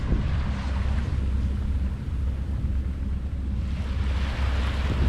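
A sailboat runs under engine across a mirror-calm sea at dawn on an Azores-to-Gibraltar passage, giving a steady, continuous low drone with wash and faint wind noise throughout.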